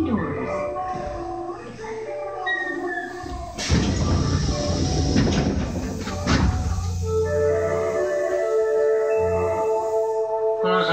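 Osaka Metro Sakaisuji Line Series 66 train, renovated set 2, on a local service bound for Tengachaya, running with a loud rumble and motor whine heard from on board, with tonal motor sounds before and after, under announcements.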